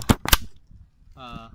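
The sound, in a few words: automotive relay clicking on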